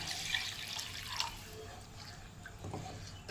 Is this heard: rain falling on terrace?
no